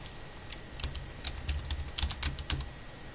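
Quick bursts of keystrokes on a computer keyboard at an office desk, irregular clicks in short clusters, close and quiet with no talk over them.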